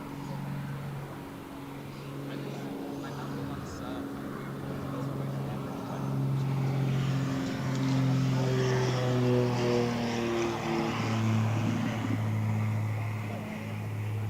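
A skydiving plane's propeller engines drone loudly nearby at Gold Coast Airport, their pitch climbing and the roar swelling as the plane powers up for takeoff.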